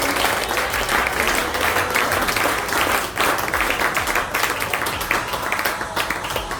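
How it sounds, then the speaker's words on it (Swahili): A church congregation claps together in praise of Christ, a dense, steady wash of applause filling the room throughout with a brief dip partway, some voices faintly mixed in. "Chapa makofi kwa ajili ya Kristo."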